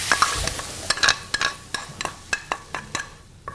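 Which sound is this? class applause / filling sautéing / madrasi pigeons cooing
filling sautéing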